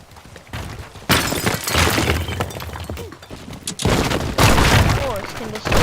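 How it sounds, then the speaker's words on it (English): Glass smashing and shattering against cobblestone in the destruction game Teardown, loud bursts of breaking debris and crashing impacts that come in waves with brief pauses between them. "Glass versus cobblestone."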